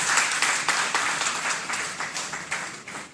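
Audience applause welcoming a poet to the stage at a Hindi poetry recital, a steady patter of claps with rhythmic pulses, moderately loud and without talk.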